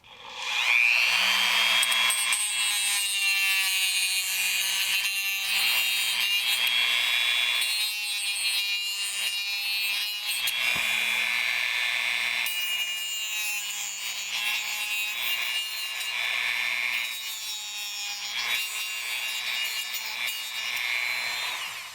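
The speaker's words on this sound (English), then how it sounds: "So, take my handy dandy cutoff wheel." A rotary cutoff wheel grooves out a car body to fit the axles: a loud, steady, high-pitched grinding whine with a wavering tone that runs for about twenty seconds and dips only briefly midway.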